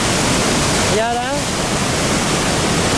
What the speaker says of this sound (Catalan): és això, exactament, la Murchison Falls, les catarates Murchison